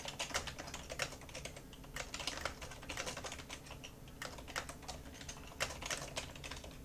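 Rapid, irregular clatter of fingers typing on a computer keyboard, entering a short text description; steady close keystrokes with brief pauses and no talking.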